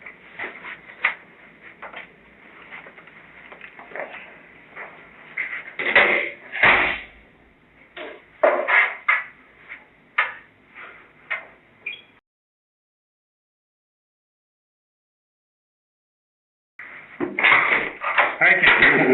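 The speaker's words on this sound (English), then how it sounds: "what you knocking on the door" Knocks and thumps on a door come in an irregular run of sharp raps with a few louder bangs. They are mixed with speech and stop for a long silence before noise resumes.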